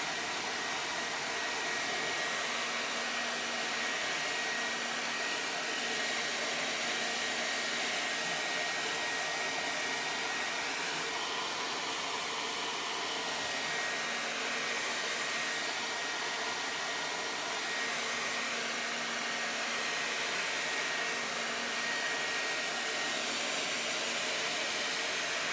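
A hair dryer blows steadily at close range onto a craft transfer, a constant airy whoosh with a faint whine, running unbroken with no talking.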